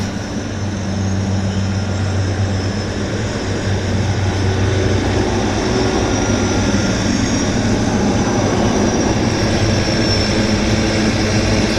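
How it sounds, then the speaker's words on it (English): A de Havilland Twin Otter floatplane taking off and climbing out from the Vancouver float base, with a loud continuous turboprop drone that holds steady throughout, no voices. "Great climb rate on the Twin Otter on floats."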